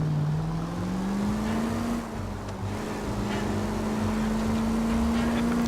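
A car drives in the 1940s Los Angeles crime video game L.A. Noire, its engine droning steadily and rising slowly in pitch as it picks up speed, loud and close with no talk.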